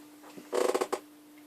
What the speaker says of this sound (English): That wasn't a fart, that was the noise of the chair